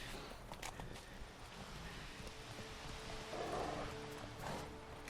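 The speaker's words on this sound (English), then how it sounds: "However, we can use our horse. So, just call our horse over." A horse in the video game The Witcher 3 trots in after being called, soft clip-clop hoofbeats growing a little louder near the end over game ambience and background music.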